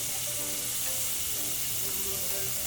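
Ingredients for chicken piccata fry in an oiled pan, a loud, steady sizzle and hiss close up, with faint stirring and a low hum beneath.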